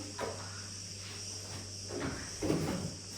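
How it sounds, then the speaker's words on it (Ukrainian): Cicadas on Crete keep up a steady high-pitched buzzing drone, moderately near, with a few soft knocks and shuffles indoors. "Чуєте, як цикади? не знаю, як сказати, співають"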